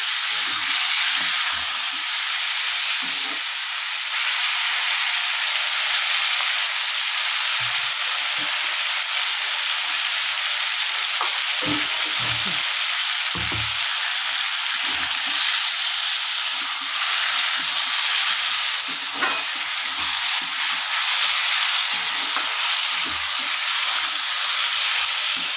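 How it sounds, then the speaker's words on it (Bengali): Potatoes and eggs frying in spices for a Bengali alu dimer chorchori, a steady close sizzle running throughout with occasional scraping stirs and soft clinks. "ভালো করে এটাকে একটু কষিয়ে নেবেন"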